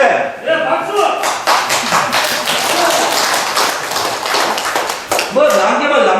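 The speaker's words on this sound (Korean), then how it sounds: "박수 합시다." Audience at a public meeting on development-restricted zones breaking into applause, a loud, dense burst of clapping that swells and dips briefly before continuing, with voices mixed in.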